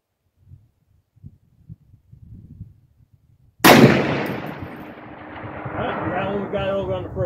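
A SCAR 17S rifle fitted with an ACOG fires a single loud shot at an outdoor range, aimed at a 550-yard target. A sharp crack follows faint murmuring and rolls into a long, fading echo.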